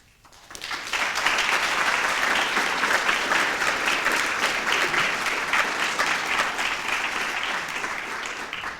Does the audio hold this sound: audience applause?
yes